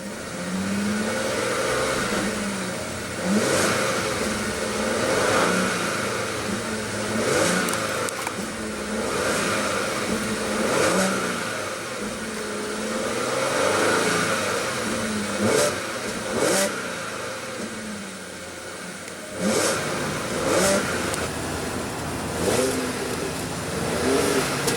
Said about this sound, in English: let's go ahead and rev up the A6 and see what kind of soundtrack she makes